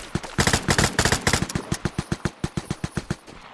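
Video game gunfire, a rapid burst of automatic shots fired up close, then slowing into a steady string of evenly spaced single cracks, loud and alone.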